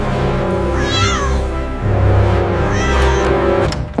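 A kitten meows loudly and close, two drawn-out rising cries over about four seconds, with no other sounds.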